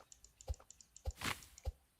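Computer keyboard keys tapped while typing, a few distinct close clicks and lighter taps plus one louder clattering burst, quiet overall with no voices.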